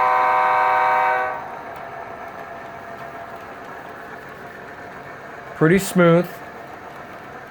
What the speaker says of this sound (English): that's the proper sound of an SD90 Mac